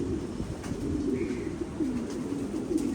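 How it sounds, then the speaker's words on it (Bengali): Racing pigeons on a rooftop coo in low throaty rolling phrases, several calls overlapping against a steady background hum, close by and with no talk. "ওই যে হাসান ভাই কবুতর ধরতেছে,"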